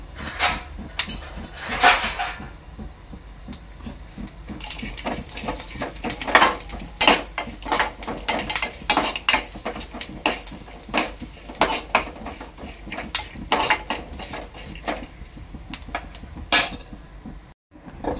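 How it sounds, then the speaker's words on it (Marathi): Coconut, coriander seeds, cumin and garam masala being sautéed in oil in a pan, heard as a steady run of metallic spatula scrapes and clinks against the pan with a soft sizzle underneath, close and fairly busy. "मसाला चांगला परतून घ्यायचा आहे।"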